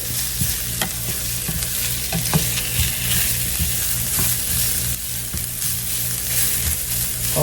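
Spinach wilting in a non-stick skillet gives a steady, close sizzle with a low hum beneath it and scattered soft clicks and pops, with no voices.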